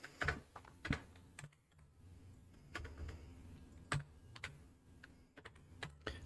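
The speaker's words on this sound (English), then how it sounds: "I wish I could type today" Someone types on a computer keyboard in scattered bursts of crisp clicks and a few heavier keystrokes, close and fairly quiet, with no voices.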